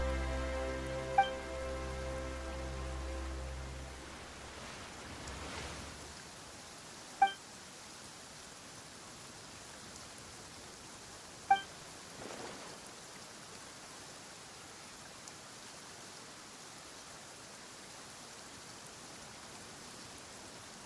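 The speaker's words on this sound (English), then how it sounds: "Why is it raining all of a sudden?" Rain in the video game Genshin Impact, a steady soft hiss of falling drops with a few sharp isolated ticks, following a fading low musical tone at the start.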